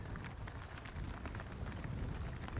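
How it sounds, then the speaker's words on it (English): Steady, heavy rain falls on a golf course during an amateur championship match, a dense continuous patter with no talk. "Look at the rain."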